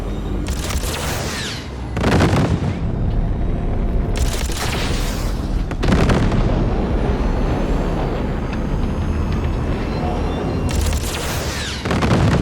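Heavy blasts go off in the Cyberpunk 2077 video game, four loud booming bursts spaced a few seconds apart over a steady rumbling background, with no speech.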